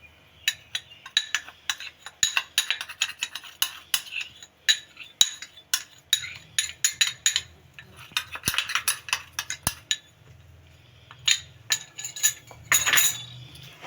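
A spoon stirring cocoa powder into cake batter in a bowl, a brisk irregular run of close, sharp clinks and scrapes against the side, with no voices.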